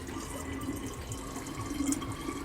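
Water pours steadily into the reservoir of a La Pavoni espresso machine, a soft continuous trickle heard alone and fairly faint.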